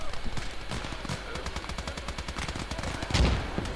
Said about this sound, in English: The light tank is now in the trench, killing that Jeep with its machine guns.